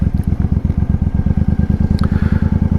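A motorcycle engine idles loudly and close by, its rapid, even thumping pulse steady throughout.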